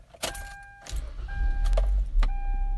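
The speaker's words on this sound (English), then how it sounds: "yep, the car starts up fine" A car engine, started through a relay and ultracapacitors, fires up after a short clicking and cranking burst, then settles into a steady low idle rumble, heard up close with no talking.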